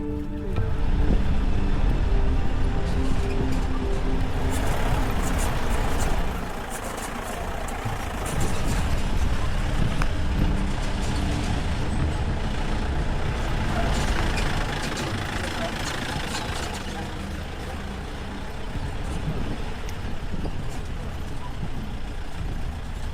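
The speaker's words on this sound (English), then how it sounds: "We rented a Jeep with an experienced driver to go up to the Kolukumalai Peak on a completely wrecked track" A Jeep grinding up a badly wrecked mountain track toward Kolukumalai Peak in Kerala, India: a loud, continuous engine rumble with rattling and jolting throughout, and muffled voices mixed in.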